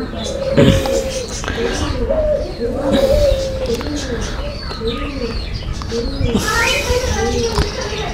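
Pigeon chicks and adults at a pigeon farm give soft, repeated cooing calls in a rhythmic series close by, with some chirps and rustling, while a person talks over them.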